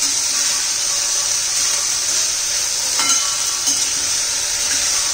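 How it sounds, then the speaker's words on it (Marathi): Green beans and carrots sauté in a hot pan, giving off a steady, close sizzle with occasional soft scrapes as the vegetables are stirred. "आता ह्या भाज्या घालून घेऊया, छान असं परतून घ्यायच्यात"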